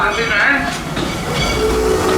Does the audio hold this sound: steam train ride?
yes